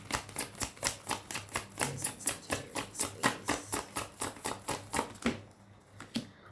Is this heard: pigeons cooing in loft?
no